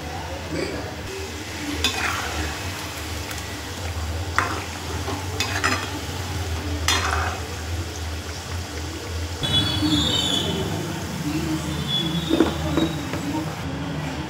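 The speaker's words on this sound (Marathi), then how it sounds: "मी आता सगळे तळून घेते, मग दाखवते तुम्हाला." Bakarwadi deep-fry in oil over a low flame, giving a steady bubbling sizzle under scattered scraping and stirring clatters. The sound is moderately loud and grows busier in the second half.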